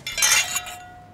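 Drinking glasses clink together in a toast, a bright ringing chime with a short tail that fades over about a second, with no talk over it.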